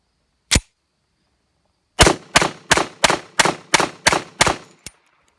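Canuck 1911 pistol firing: a single shot, a pause, then a rapid string of seven sharp reports, loud and close with no talking.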